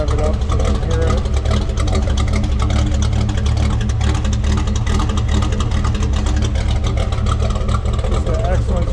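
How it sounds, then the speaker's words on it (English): A Factory Five '33 hot rod with a 512hp engine runs loud and close, a constant heavy rumble with a dense low exhaust note that holds steady throughout rather than rising in clear revs. "Let it warm up a little bit here and then rev it up so you can hear it"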